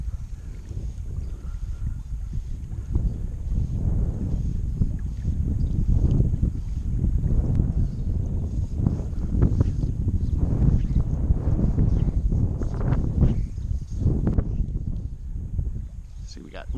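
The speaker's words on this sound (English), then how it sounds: "Kind of tough to cast against this wind here." Steady wind rushes and buffets across the microphone beside a river during fly fishing, a constant low roar that swells and eases over the whole stretch, with someone talking through it.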